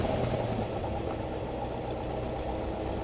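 A light aircraft piston engine idling during a pre-flight idle check, giving a steady low rumbling drone with slight knocking vibration, close and constant, no talk.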